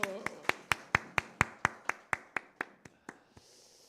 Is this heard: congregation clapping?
yes